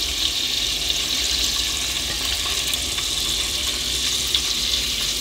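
Spices, lemongrass, curry leaves, rampe, cinnamon, cardamom, clove and onions sizzling in hot oil as a tempering for peanut rice, a loud continuous hiss that holds steady throughout with no talking.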